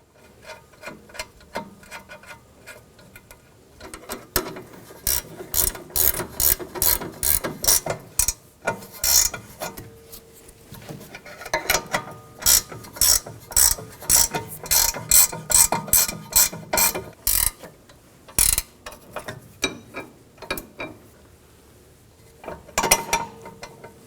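A hand ratchet tightens the sway bar link nut on a 2013-2017 Honda Accord rear suspension, its rapid pawl clicking in repeated bursts of strokes with brief pauses, close and clear with no talking.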